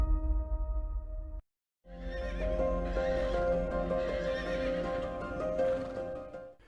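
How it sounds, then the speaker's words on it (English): Karabakh horses, an ancient Caucasus breed, whinny loudly and repeatedly while hooves clip-clop close by, after a brief pause, with no talking. "Karabakh horses are considered as national symbols and are the ancient breed of horses in the Caucasus"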